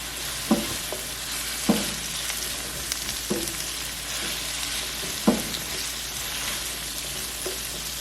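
An onion pan sauce sizzling steadily in a pan for pork chops, with a spoon scraping and stirring at intervals, close and continuous with no talk.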